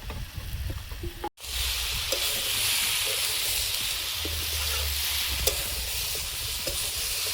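Drumstick pieces and fish roe dropped into a hot pan of oil, a sudden loud burst of sizzling that settles into a steady close hiss with light stirring scrapes.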